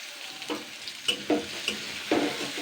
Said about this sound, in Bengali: এবার আমি পেঁয়াজ কুচানোটা দিয়ে দিচ্ছি জাস্ট আমি পেঁয়াজ কুচুনোটা দুই মিনিট মতন ভেজে নেব